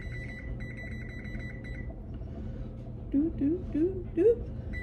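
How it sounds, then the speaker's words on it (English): An oven timer in a home kitchen sounds a run of repeated electronic beeps, followed by short higher chirps as buttons are pressed, fairly close with a low background hum. "I'm going to set a timer on my oven here."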